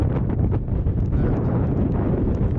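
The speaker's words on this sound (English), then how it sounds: "Very windy" Strong, steady wind on a mountain in Mount Aspiring National Park, New Zealand, roars and buffets the microphone with a constant low rumble and gusty bursts, loud and close throughout, with no voices.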